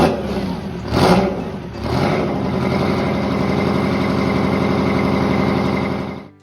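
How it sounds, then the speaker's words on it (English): A Detroit Diesel 8V92 two-stroke V8 diesel engine revs sharply twice near the start, then settles into a loud, steady, raspy idle before cutting off abruptly at the end. "Number 6, the Detroit Diesel 8 V92."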